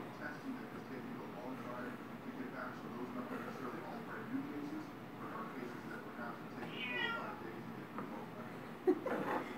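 A faint cat meows once or twice amid a low, steady room hum, quiet and somewhat distant.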